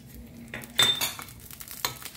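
Green chillies and garlic frying in a pan give short sizzling bursts, with spoon and pan clinks and a few stirring scrapes, close and intermittent over a quiet background.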